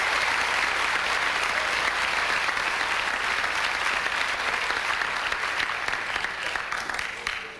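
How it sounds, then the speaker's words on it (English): Sustained audience applause at a 1995 taekwondo black belt event, a dense, steady wash of many hands clapping that holds for several seconds and tapers slightly at the end. "Give him a round of applause."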